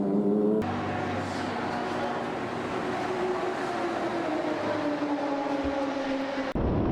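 Field of 25 IGT race cars, all numbered 77, accelerating toward turn 1 at Daytona on the 2023 race 1 green flag, a dense continuous engine roar with rising pitch, loud and sustained under steady commentary, cutting off abruptly near the end.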